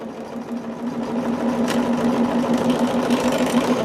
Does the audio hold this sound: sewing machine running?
yes